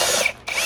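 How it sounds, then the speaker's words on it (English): Power drill whirring briefly into a cup to bore a drainage hole for planting seeds, a loud close buzz that dips for an instant and resumes. "And then you just get your drill."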